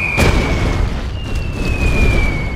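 A bombing run in the Red Alert 2 video game produces a loud, sustained rumbling boom with a thin high tone sweeping across it, dense and close for the whole stretch.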